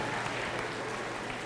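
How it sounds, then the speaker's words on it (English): An audience applauds at a health talk, a dense, even patter of many hands clapping together at moderate distance, steady for the whole brief stretch with no voices over it. "Give them a round of applause."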